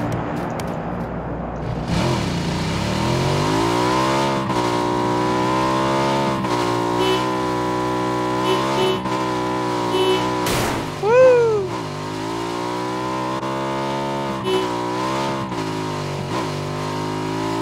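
A motorcycle engine in PUBG revs and drones continuously at close range, pitch rising and falling with throttle, with a brief sharp rev spike midway and a steady mechanical hum throughout.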